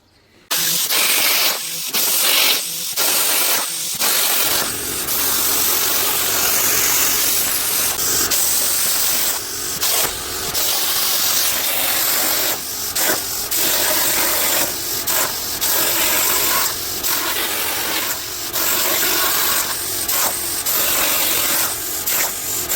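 A spray gun coats a welded, freshly repaired car chassis with paint, producing long close hissing bursts with brief pauses between passes, loud and sustained for most of the stretch.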